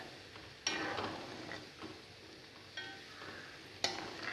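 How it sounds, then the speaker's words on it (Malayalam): Onions crackle and fry in ghee being made from butter, a faint steady sizzle close by with occasional sharp pops and stirring scrapes, no talking. "ഉള്ളി പൊട്ടുന്ന സൗണ്ട് കേൾക്കാം ചെറുതായിട്ടിങ്ങനെ അത് മൊരിയുന്ന ശബ്ദം കേൾക്കാം"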